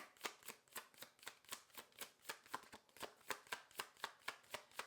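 Quick rhythmic shuffling of a tarot deck, about two dozen sharp card snaps at a steady pace, fairly soft and close, with no talking.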